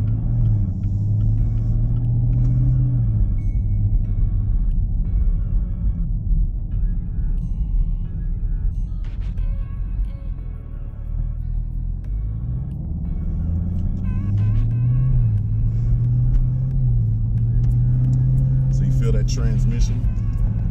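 A Chevrolet Camaro ZL1 engine rumbles loud and steady while driving, a deep low drone that swells and eases as the revs shift, with people talking inside the car over it.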